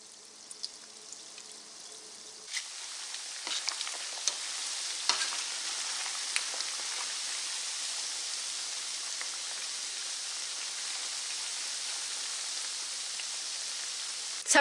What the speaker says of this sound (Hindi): जो बाकी रह गए हैं उनको भी फ्राई कर लेते हैं।